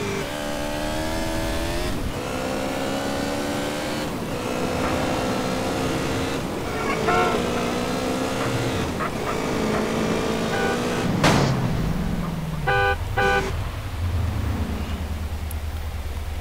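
Motorcycle engine in GTA San Andreas, a steady droning whine that rises and falls in pitch through the clip, with a few sharper mechanical clatters near the end.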